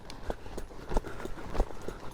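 A young horse trotting, its hooves clip-clopping in a steady repeating rhythm of dull thuds at moderate distance, with faint background noise and no talk.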